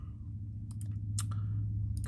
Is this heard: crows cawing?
no